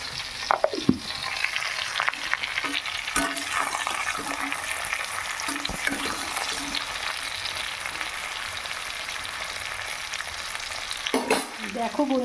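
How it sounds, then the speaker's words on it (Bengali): Eggplant frying in oil in a pan, a dense continuous sizzle, close and moderately loud, with occasional clacks of a spatula stirring. "এবার বেগুনটা ভেজে নিই"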